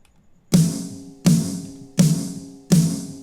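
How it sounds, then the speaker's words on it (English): Four evenly spaced, crisp snare drum hits, a live snare layered with a sample, with a punchy body and bright rattling tail, played alone and close. "then I'll just mix these in to give the snare sound"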